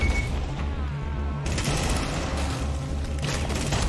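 Heavy, continuous gunfire in the video game Rainbow Six Extraction, dense rattling bursts with booming low thumps, loud and close throughout with no pause.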